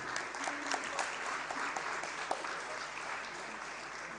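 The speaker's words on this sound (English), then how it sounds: "Please, let's clap." Sustained applause from an audience at a political peace-pact signing ceremony, a dense steady patter of many hands clapping continuously, moderately loud throughout with no voices standing out.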